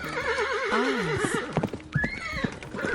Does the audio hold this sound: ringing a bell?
no